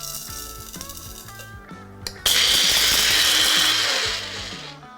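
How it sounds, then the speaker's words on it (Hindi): A kitchen mixer grinder whirs loudly on dry spices for raw mango panna, starting abruptly after a quiet stretch, holding a harsh high-pitched grinding roar for about two seconds, then easing down. "अब सबसे पहले जो ड्राई मसाले हैं उनको पीस लेता हूं"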